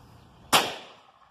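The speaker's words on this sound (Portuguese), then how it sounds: "Primeiro disparo." A single sharp 16-gauge shotgun shot with a light load cracks out loud and close, then rings off in a fading tail in an otherwise quiet setting.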